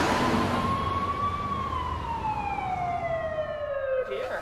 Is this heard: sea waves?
no